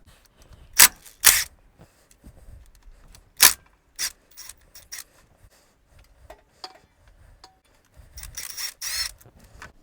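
A ratchet works loose a 17 millimeter motor mount bolt on a Toyota Tercel, with sharp intermittent metallic clicks and clacks up close, separated by quiet pauses and followed by a short rattling burst.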